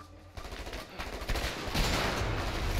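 Gunfire crackles through a firefight in the video game A Way Out, with several loud shots and bursts overlapping in quick succession, a sniper rifle among them, with no voices.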